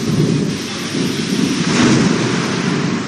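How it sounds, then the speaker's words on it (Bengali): Heavy thunderstorm over the Kolkata area, with a steady dense roar of downpour and a low rolling rumble of thunder swelling near the middle, loud and continuous with no voices. "ঝড় বৃষ্টি, তার সঙ্গে"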